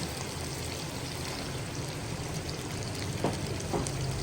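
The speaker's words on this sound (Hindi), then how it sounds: "अब हम इसमें 1 कप दही ऐड कर देंगे।" Yogurt poured into fried spice masala for beef karahi, a soft continuous pouring and bubbling sound with a couple of faint drips near the end, no talking.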